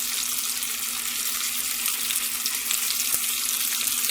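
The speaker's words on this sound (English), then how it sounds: "And browning this takes about 15 minutes." Swiss steak browns in a frying pan with a steady, loud, continuous sizzle and crackle of hot fat throughout.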